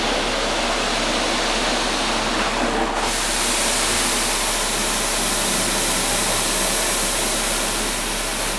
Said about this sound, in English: And this right here is our spot free rinse.